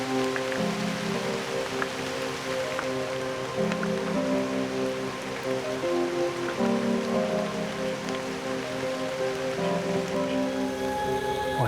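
Steady rain falls during an autumn bow hunt from a tree stand, a constant close patter across the whole stretch with no talking. A low, tonal background hum rises and falls underneath.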